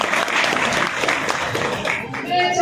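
Audience applause rings out at a public gathering in Amethi, dense clapping from a crowd that holds steady for a couple of seconds before thinning, with a voice speaking over it near the end.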